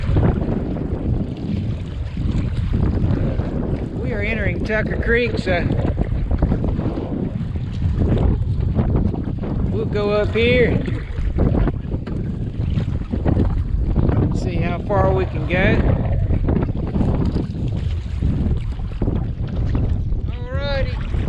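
Steady wind rushes across the microphone while a kayak is paddled up Tucker Creek near Slocum Creek in Havelock, North Carolina, a constant broadband roar with someone talking over it at intervals.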